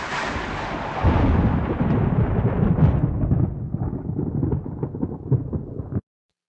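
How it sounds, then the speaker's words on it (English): A single note is played on the Reason Malstrom graintable synth using its thunder waveform, giving a dense, rumbling, crackling roar that holds steady, slowly darkens and then cuts off abruptly. "how this sounds when each sound is made up of many single cycles using this thunder waveform"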